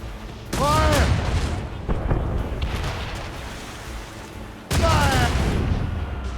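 Ship cannons fire a volley in the naval battle game Assassin's Creed Rogue, loud booming blasts that rumble and echo before a second sharp salvo, with shouted voices between them.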